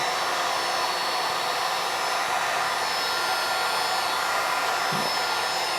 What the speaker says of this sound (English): Now we're going to use a heat gun to kind of melt this plastic just a little bit, loosen it up, put it on a low setting